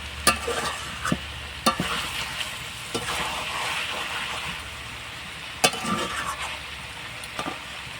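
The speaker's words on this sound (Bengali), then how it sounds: "মাংসটা কষানোর সময় কড়ার গায়ে কিন্তু লেগে যাচ্ছে না অতটাও" Chicken pieces for an oil-free curry sizzle softly in a pan while a spatula scrapes and knocks against the sides in sporadic sharp strokes, close by, with a steady frying hiss underneath and no talking.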